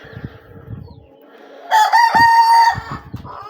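A rooster crows once, loud and close, a long strained call rising over quieter background noise and faint voices.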